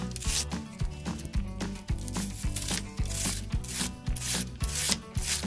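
Repeated scraping strokes from a Magic Trio peeler, probably on an onion, each pass a rough, close rasping rub in a steady rhythm with no talk.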